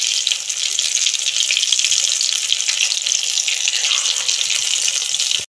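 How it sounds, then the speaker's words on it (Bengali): Potato fingers frying in hot oil, a steady loud hiss of bubbling sizzle running without a break until it cuts off abruptly at the end. "এইভাবে আমি সব কটা ভেজে নেব পটেটো ফিঙ্গার"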